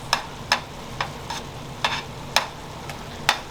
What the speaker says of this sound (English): you see how that's simmering now?